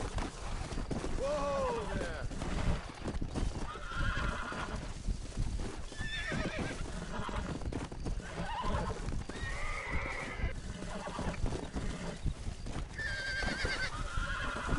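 Horses neigh and whinny repeatedly over clip-clopping hooves and a dense, busy background of Red Dead Redemption game audio with voices mixed in.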